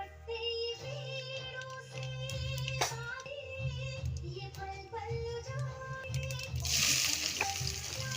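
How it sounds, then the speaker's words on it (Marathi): Mustard and cumin seeds splutter in about two spoons of hot oil in a kadhai while vegetables are readied for a Makar Sankranti bhogi bhaji, a steady crackling sizzle with sharp pops, fairly faint, swelling to a louder hiss near the end. "मोहरी जिरे तडतडले आहे."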